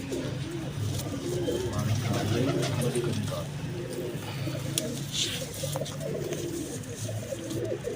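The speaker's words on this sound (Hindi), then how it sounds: "ये मेरा कबूतर है जी छोटू।" A Chotu breed pigeon coos repeatedly in low, soft bursts, close by, over a steady background murmur and faint chirps.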